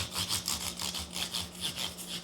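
Sandpaper rubs back and forth across the tops of guitar frets in steady, even strokes, a close, rhythmic raspy scrubbing of about eight passes with no talking.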